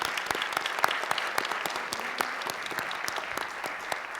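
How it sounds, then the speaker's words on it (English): A panel discussion audience gives steady applause to welcome a high school senior speaker. The clapping is dense, continuous and fairly distant, with sharper individual claps popping out of the wash. "Let's give her a big round of applause."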